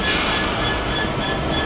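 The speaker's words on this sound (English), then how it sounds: "Did you see a choo-choo train?" A train rolls past close by in London, producing a loud, steady rumble of wheels on rails with a high metallic squeal held throughout.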